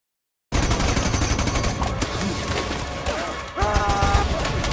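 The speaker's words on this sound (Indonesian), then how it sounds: "Mereka saling melepaskan tembakan." Soldiers exchange gunfire in a war film scene with British troops: rapid, loud bursts of machine-gun and rifle fire with sharp crashes, continuing almost without a break after a brief silent start.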